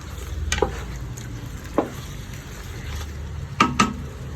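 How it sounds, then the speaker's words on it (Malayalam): Chicken biryani masala with lemon juice and crushed fried onions is stirred in a pan, with a low sizzle and a few scraping strokes of a spoon, close and fairly quiet. "ഇത് നന്നായിട്ട് ഇളക്കി കൊടുക്കാം."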